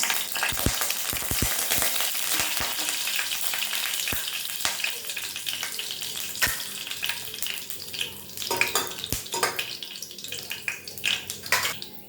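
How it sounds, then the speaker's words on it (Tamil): Fenugreek seeds fry in sesame oil, a steady close crackling sizzle with sharp pops and clicks scattered throughout, no voices present. "வெந்தயம் பொரிஞ்சிருச்சு."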